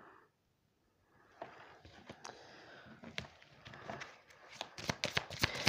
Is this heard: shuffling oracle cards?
yes